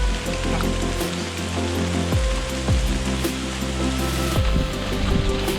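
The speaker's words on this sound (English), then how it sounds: "the rain is actually welcomed" Steady rain pours down on a humid jungle hike, a dense, even hiss of water with occasional heavier thumps and drips, continuous and fairly close throughout.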